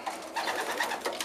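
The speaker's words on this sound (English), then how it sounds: "This one obviously looks to me, obviously anyway, it's one of the Meuleman based birds." A Meuleman-line racing pigeon coos softly and close by in a loft, a short series of low throaty pulses.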